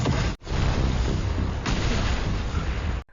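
A smoke bomb goes off in a drama film, a dense, loud roaring blast with rumbling booms that runs for about three seconds, broken by a brief gap near the start.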